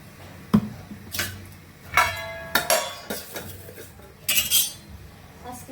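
A spoon clinks against cups and dishes while tea is being made in a home kitchen, giving several sharp, bright metallic chinks spaced irregularly, close and fairly loud.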